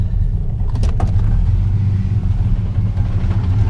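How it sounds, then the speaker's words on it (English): A fuel-injected 225 Slant Six engine in a 1979 Plymouth Volare runs close by, giving a loud, steady low rumble with no clear change in pace. "because it's fuel injection, you basically crank it and it starts right up"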